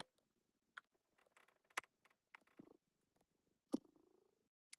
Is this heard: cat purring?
yes